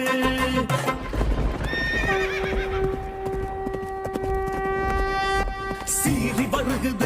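A white horse in a devotional Karuppasamy song gallops with rapid clip-clop hoofbeats and lets out a long, loud whinny, set against music.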